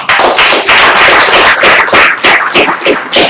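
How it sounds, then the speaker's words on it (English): Audience applause at the close of a biodiversity panel discussion, a loud, dense burst of clapping with sharp hand-claps continuing steadily throughout. "I would like you guys to give a warm round of applause."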